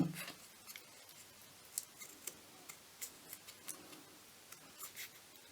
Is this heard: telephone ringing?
no